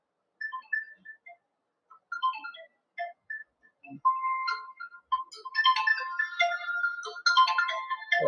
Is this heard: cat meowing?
no